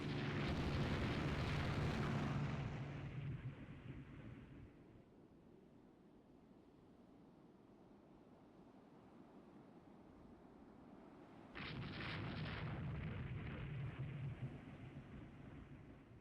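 Naval gun turrets firing in Rule the Waves 3: a deep, booming blast that rolls off into a long rumble, then a second heavy blast later.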